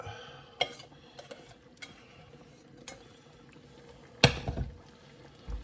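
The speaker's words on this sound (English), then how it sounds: "mix all this in with the meat and everything else" Cabbage and meat being stirred in a pan for Korean chicken and pork bulgogi, with intermittent scraping clinks and one louder clatter near the end, heard up close without talk.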